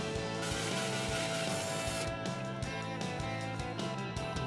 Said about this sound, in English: Then I painted the skull black using Krylon black lacquer spray paint.